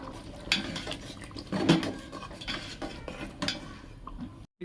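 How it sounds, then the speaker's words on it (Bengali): Washed Gobindobhog rice going into a pot of half-cooked dal, heard as close clatter, knocking and scraping of utensils against the pot, with a louder cluster of clinks partway through, moderately quiet overall. "দিয়ে দেবো 300 গ্রাম গোবিন্দভোগ চাল"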